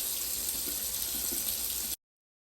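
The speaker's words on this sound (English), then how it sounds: "I run the water and wash it off" Water runs from a sink tap over leather beekeeping gloves being washed, a steady close splashing rush that stops abruptly near the end.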